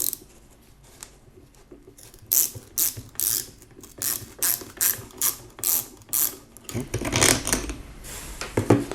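Ratchet wrench clicking in a series of quick bursts as two screws are backed out of the starter cover on a Yamaha TDM 900 motorcycle, close-up and fairly loud with short pauses between strokes.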